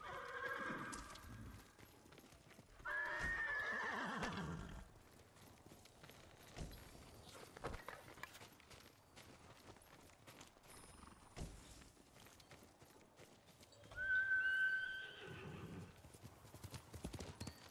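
Horse in the Ghost of Tsushima video game whinnying loudly twice and trotting with steady clip-clop hoofbeats on the ground, set against a busy ambient game soundscape.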